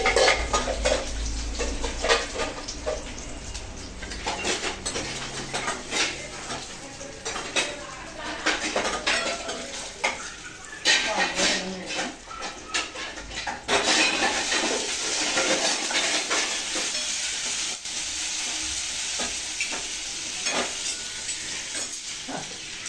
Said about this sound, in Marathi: सासूचं चालू आहे इकडे भांडी मांडायचं